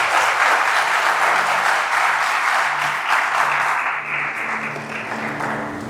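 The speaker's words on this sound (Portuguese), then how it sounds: "Uma salva de palmas aqui para eles aqui" Church congregation applauding steadily, a dense wash of clapping from many hands that holds for about six seconds and eases slightly toward the end, with no talk over it.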